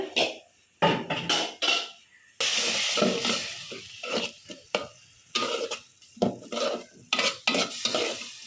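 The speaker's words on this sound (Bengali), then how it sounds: "এটা ভালোভাবে কষায় নেব মশলাটা কষাই নেই" Spice masala stir-fried in a pan for a village-style home meal: loud, close bursts of sizzling and scraping spoon strokes in an uneven rhythm, with one longer steady sizzle partway through and no voices.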